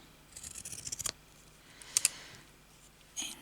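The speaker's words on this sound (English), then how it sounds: "So I'm going to cut this up here." Scissors cutting fabric for a slow-stitch needle book, a quick run of close snips followed by two sharp cuts and one final snip, quiet and with no talking.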